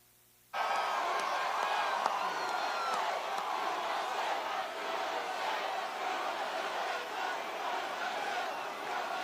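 A large crowd at a presidential campaign rally in Muskegon, Michigan cheers and roars loudly and continuously, with shouts and whoops rising out of the sustained wall of noise after a sudden start.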